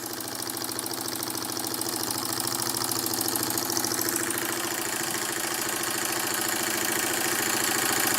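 An Empire 62 model steam engine runs with a rapid, even chuffing beat over a steady mechanical hum. It is close and constant for the whole stretch, with no voices.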